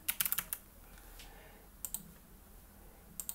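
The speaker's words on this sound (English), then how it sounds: "And say we type in" Quick bursts of typing on a computer keyboard while entering text over a Sync 3 custom background wallpaper, with clustered close clicks separated by short quiet gaps and no talking.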